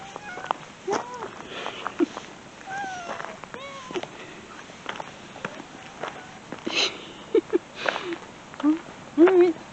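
A cat on a city sidewalk gives several short, high meows scattered through the clip, close and moderately loud, between sniffing sounds while a person talks to it softly.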